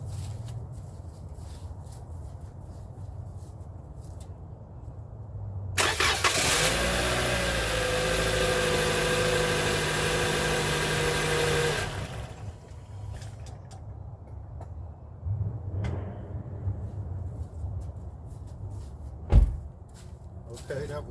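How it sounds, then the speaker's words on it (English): A car engine cranks and catches, runs at a steady loud idle for about six seconds, then shuts off, followed by quieter clicks, a door-like thump and some talking nearby. "I'm gonna turn it over to start the car and then turn it off"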